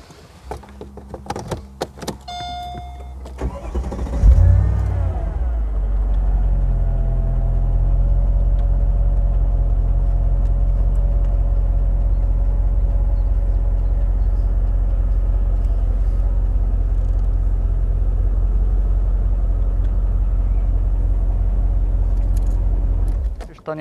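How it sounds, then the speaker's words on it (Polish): Mercedes SL55 AMG R230 V8 starts up after a few clicks and a brief whir, then settles into a steady, loud idle rumble that holds for about twenty seconds; the hydraulic suspension rising and lowering is not clearly separable. "odpalimy samochód i zobaczycie, jak szybko to zawieszenie się podniesie, a później jak szybko się opuści"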